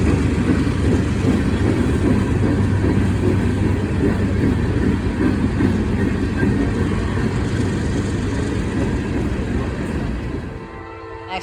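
A westbound freight train with UP, Canadian Pacific and NS locomotives passes close by at evening, a loud sustained rumble of engines and rolling wagons that holds steady, then starts to drop away near the end.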